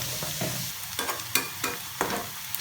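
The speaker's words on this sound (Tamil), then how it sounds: "இப்போ இந்த வெங்காயம் நல்லா வதங்கி வந்துருச்சு." Chopped onions sizzle steadily in a hot pan while a spoon stirs them in regular scraping strokes, close and clear with no talking.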